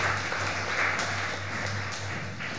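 An audience applauds continuously at a devotional temple gathering, a dense, steady wash of clapping throughout.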